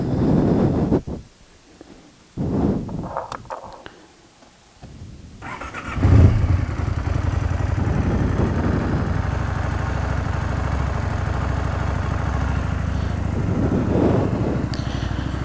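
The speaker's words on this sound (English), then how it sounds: "So let's turn the bike on." A motorcycle fitted with Denali D2 auxiliary lights fires up after a few brief cranking bursts, then settles into a steady, loud idle close to the microphone with some wind rumble.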